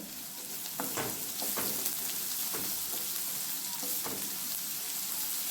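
Onion frying in a pan for matki bhaji gives a steady close sizzle, with light crackles and occasional stirring scrapes and no talking over it.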